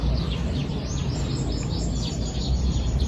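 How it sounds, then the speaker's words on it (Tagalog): Birds chirp and call repeatedly in short, bright bursts outdoors near a garden of flowering plants, over a steady low background rumble, with no talking. "nandun pala yung ibon"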